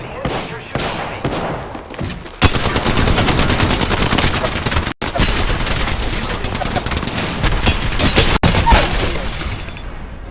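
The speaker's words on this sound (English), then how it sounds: "The enemies are shooting at me." Rapid bursts of enemy gunfire in a video game, including machine-gun fire, rattle loud and nearly continuous with only brief gaps, dense volleys filling the scene.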